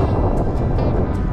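Strong wind at sea buffets a small fishing boat, a loud, steady low roar filling the whole moment, close and without pauses.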